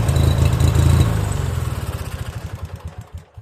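An older Craftsman riding lawn mower engine runs loud and close after a carburetor cleaning, a steady throbbing drone that eases into slower, distinct chugging pulses near the end.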